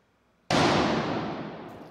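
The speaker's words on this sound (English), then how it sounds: "LKOT will now fire its cannon, Old Trusty" The cannon Old Trusty fires a salute at an outdoor engineering convocation: a single loud boom opens after a short quiet, then a long rumbling roar fades slowly over the next second and a half.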